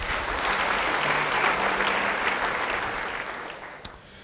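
Church congregation applause, a thick wash of clapping that slowly thins out over four seconds, ending with a single sharp clap or knock as it fades.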